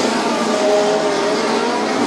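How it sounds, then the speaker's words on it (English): Midget race cars roar around the dirt oval at Spoon River Speedway during a POWRi National Midget League race, a dense, continuous engine howl from several cars running together at close range. "We've got cars running the bottom, cars running the top."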